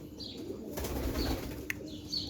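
Soft, low cooing from a pair of teddy pigeons, a black-faced male and a female, repeats close by over a steady background hum.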